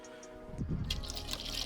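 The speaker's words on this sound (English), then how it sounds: "pour it on through the funnel into my big stainless steel pot that I used to boil down in." Maple sap is scooped with a measuring cup and poured through a funnel into a large stainless steel boiling pot: a quiet lead-in, then a splashing, trickling pour with bright drips close by.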